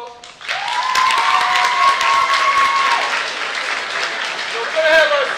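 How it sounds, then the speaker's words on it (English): A crowd breaks into loud, sustained applause and cheering for senior cheerleaders at a school's first-day event, with a voice calling out over the clapping in a large echoing room. "give them a round of applause"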